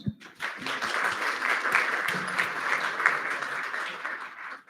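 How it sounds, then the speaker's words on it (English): Conference audience at a FOSDEM 2023 open-source session clapping for a remote speaker, a steady, moderately loud round of applause from a roomful of people that swells quickly and fades out after a few seconds. "I don't know if you can hear us clap"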